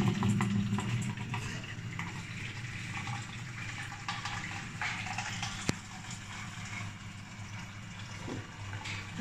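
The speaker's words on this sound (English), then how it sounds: "Press this button, it will start to pour water." A water vending machine dispensing a 4-gallon fill pours in a steady, dense rush of water that runs unbroken throughout, with a faint click partway through.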